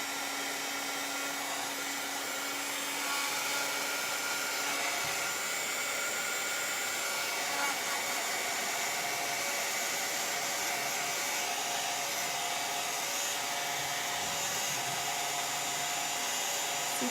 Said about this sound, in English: I am gonna run this dryer real quick.